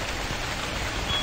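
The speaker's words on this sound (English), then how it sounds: "I mean, it's raining right now." Unbroken rainfall in a convenience store simulation game, a dense even hiss of drops on surfaces that holds steady throughout with no talking.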